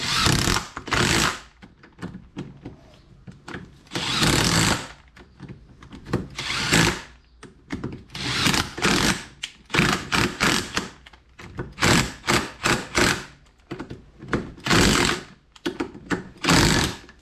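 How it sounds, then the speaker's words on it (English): Power tool driving bolts on a classic Mini Cooper's grooved and drilled brake discs, heard as repeated loud bursts of whirring and rattling, each lasting about a second, separated by short quiet gaps. "all we're going to do is nip these down now, and they need to be torqued up afterwards to the correct spec"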